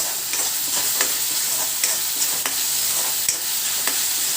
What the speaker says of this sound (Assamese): যেতিয়ালৈকে আদা নহৰু কেঁচা গোন্ধটো নাযায় তেতিয়ালৈকে লৰাই থাকিব।